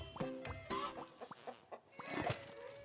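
Cartoon chickens cluck in a rapid, bouncy run of short calls from the co-op game It Takes Two, with game music and effects layered underneath, moderately loud and close.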